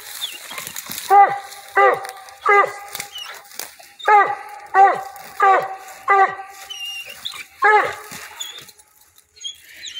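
A young coonhound in training gives a run of about eight whimpering, whining cries in a loose rhythm, fairly close and clear against a quiet background.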